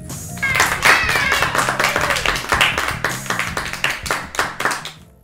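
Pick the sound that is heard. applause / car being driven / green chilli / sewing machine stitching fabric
applause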